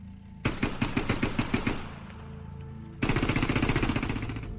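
Rapid fully automatic bursts from a C8 rifle in the video game Squad, one burst of about ten sharp close shots, a short pause, then a second longer continuous burst.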